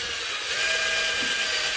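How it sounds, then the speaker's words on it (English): Power drill boring holes for the bridge into the wooden body of a DIY Les Paul guitar kit, held by hand without a drill press; a steady high whine with a grinding edge, close and unbroken, no voices. "Let the bit do what it wants to do. No need for a drill press."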